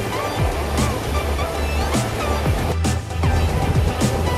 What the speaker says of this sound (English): I love the sound of waves